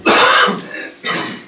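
Two bursts of throat clearing close to the microphone, the first longer and rougher, the second a short stifled cough-like clearing, in a quiet meeting room.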